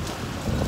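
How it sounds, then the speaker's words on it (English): Heavy rain pours steadily in Bangkok, a dense, even wash of noise with no pauses for a brief moment. "that's Bangkok rain for you"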